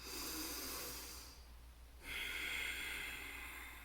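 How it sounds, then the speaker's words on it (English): Slow, deep belly breaths during a breathing exercise: a long airy breath, a brief quiet pause, then another full breath, close and soft. "we're breathing down into the belly"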